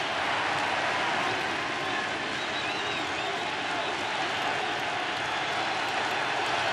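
Dense, steady roar of a large baseball crowd cheering at a World Series game, sustained and broadband with no breaks.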